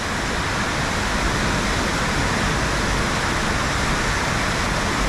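A powerful waterfall at Ohiopyle, Pennsylvania roars as a loud, dense, unbroken wash of noise, close by and steady for the whole stretch, drowning out everything else.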